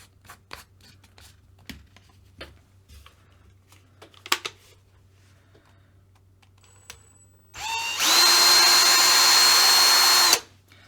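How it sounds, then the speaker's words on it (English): Faint clicks and handling noises, then a power drill whirs loudly and steadily for about three seconds while unscrewing a screw from a Kyosho GT2 RC car's front upper alloy arms, before stopping. "and then fasten it in the drill."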